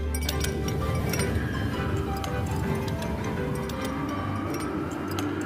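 Ice cubes clink and rattle against the sides of a glass in a steady, busy stream of small bright taps, shown in a Nintendo Switch Joy-Con demo, with a low rumbling bed underneath throughout.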